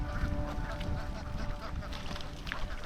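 Ducks on a rural farm among rice fields quack and honk in a faint, busy chorus, with wind and outdoor rustling underneath, heard from a short distance.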